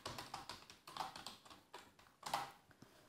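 Rapid typing on a computer keyboard during typing practice, with uneven bursts of light key clicks and a few louder strikes, close and alone with no talking.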